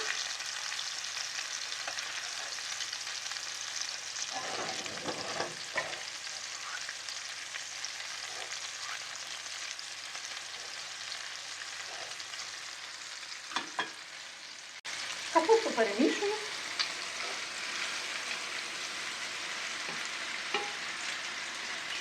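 Cutlets frying in a pan and turned over to cook both sides, a faint steady sizzle with a few scraping and clattering bursts of a spatula, the loudest near the end.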